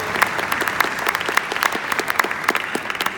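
Steady applause for tennis players after a drill demonstration, a moderately quiet crowd clapping with individual claps popping out in an irregular patter, no voices over it.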